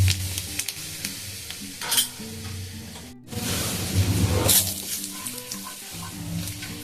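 Nigella seeds and a spoonful of gram flour fry in hot oil in a pan while being stirred, giving a steady close sizzle with scraping stirring strokes and a low background hum, with no talking.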